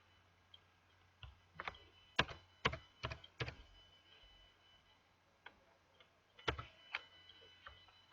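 Clicky keystrokes on a computer keyboard while equations are typed, a few scattered taps then quick clusters, ending with a firmer press of the enter key; close and fairly quiet, no talking.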